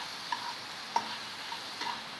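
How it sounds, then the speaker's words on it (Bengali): Large shrimp fry in hot mustard oil with black cumin seeds, giving a soft, steady sizzle with a few sharp crackles and pops scattered through it. "এই চিংড়ি মাছটা আমি একটু এর মধ্যে ভাজা করে নিলাম।"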